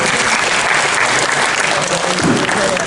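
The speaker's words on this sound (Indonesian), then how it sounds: "Mohon tepuk tangannya dong, Bu Bapak." Audience applause at an Indonesian investment forum in Borneo, loud and dense clapping from a large hall crowd that holds steady for a few seconds with no speech on top.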